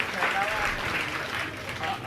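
Audience at a Jain religious gathering applauding loudly, a dense steady wash of clapping lasting about two seconds with no clear gaps.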